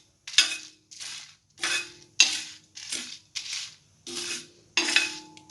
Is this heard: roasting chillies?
yes